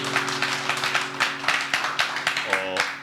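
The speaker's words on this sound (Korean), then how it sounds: "박수로 하나님께 감사해" Church congregation applauding together at a young entrepreneurs' venture forum gathering in Seongsu-dong, a steady dense burst of clapping for about three seconds, close and lively, with voices mixed in underneath.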